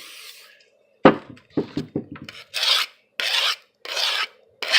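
A blade sharpened on a clean stone oiled with WD-40, first a quick series of short scraping rasps, then four longer, regular gritty strokes, close and clear with no talking.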